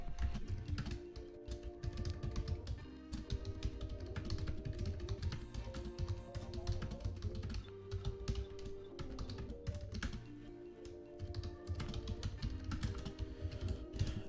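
Computer keyboard typing, a quick, irregular stream of close key clicks and taps running continuously with brief pauses, fairly quiet and alone without talk.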